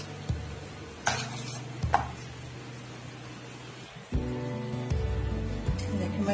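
Roasted cumin powder and spices are stirred together in a bowl, with soft scraping and a few light clinks of a spoon against the dish, close and fairly quiet.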